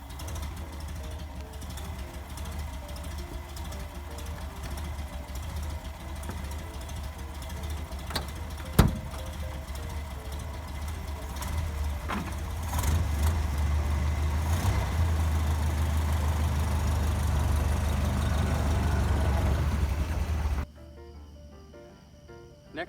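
A vintage car engine, started with a hand crank through a ratchet mechanism, runs with a low, steady rumbling idle that grows fuller partway through before cutting off abruptly near the end, with a sharp click early on.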